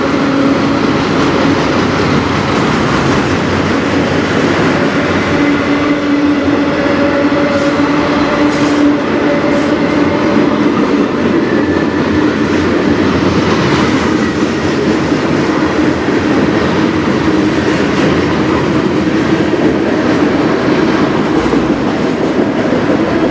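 A CN freight train rolls past on the Strathroy Subdivision in Sarnia, a loud, continuous rumble of railcars with clickety-clack wheel noise and faint metallic squeals, close by and unbroken.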